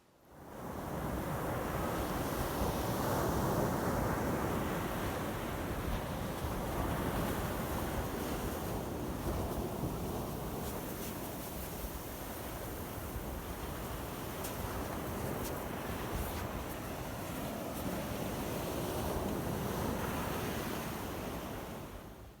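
Ocean surf rolls onto the beach at Hatteras, North Carolina, a steady, loud wash of breaking waves that swells and eases without pause, with some wind noise over the microphone and no voices.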